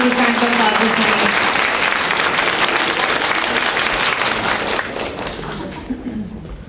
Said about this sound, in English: Let's give them a huge round of applause this morning